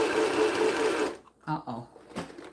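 A home sewing machine runs steadily at close range while quilt pieces are stitched from reclaimed fabric, then cuts out abruptly partway through; after that come a few short clunks and faint handling sounds.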